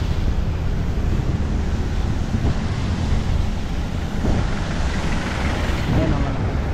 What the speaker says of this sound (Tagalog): Malakas din yung hangin dito